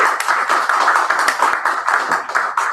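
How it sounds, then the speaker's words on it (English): Audience applause at a poetry slam, dense sustained clapping from a crowd, loud and close, continuing steadily without pause. "Let's give one more big round of applause to Mo."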